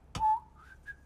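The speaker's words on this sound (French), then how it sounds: "Le sifflement distinctif de Monsieur Mondo." Monsieur Mondo's distinctive cartoon whistle, a short tonal phrase that slides and rises, clear and fairly soft against a quiet background.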